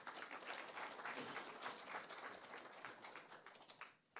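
Dense applause from a lecture audience, a continuous wash of many hands clapping at once, soft and fairly distant, thinning out toward the end.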